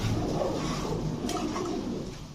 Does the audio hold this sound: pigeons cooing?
yes